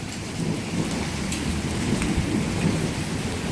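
Heavy rain hisses steadily over a thunderstorm, with a low rumble of thunder rolling through a storm that brings hail and lightning, with no voices.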